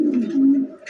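A large domestic pigeon from a breeding farm gives a single low, throaty coo, close and clear, about one second long.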